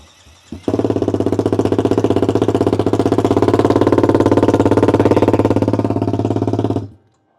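Race car engine at Madras International Circuit cranks, fires and settles into a loud, close, steady idle with a rapid rhythmic pulsing for about six seconds, then cuts off abruptly.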